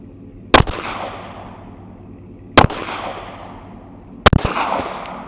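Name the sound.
pistol being fired, individual shots at a target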